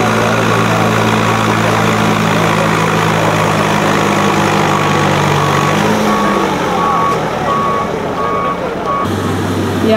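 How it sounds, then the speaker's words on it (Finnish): Tractor engines idle at a tractor pulling contest in Vuolenkoski in 2012, a loud, steady low rumble throughout, with a repeating beep and people talking in the background. "sieltä lähtee pikkuhiljaa traktorit liikkeelle"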